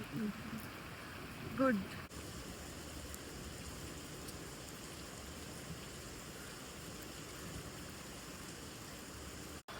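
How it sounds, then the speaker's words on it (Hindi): Heavy rain pours steadily outdoors as a broad, even wash of noise that builds in intensity, with a short spoken word early on over the downpour. "और अब बारिश और तेज हो रही है"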